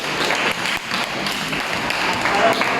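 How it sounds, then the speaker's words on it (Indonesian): A classroom of students in a mathematics lesson breaks into applause, a dense, steady wash of many hands clapping together at close range throughout. "tepuk tangan untuk kita semua"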